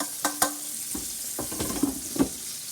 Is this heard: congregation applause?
no